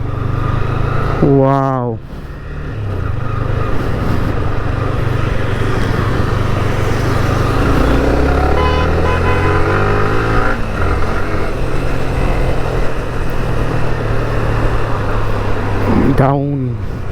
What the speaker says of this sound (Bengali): অনেক দিন পর R15 চালাচ্ছি।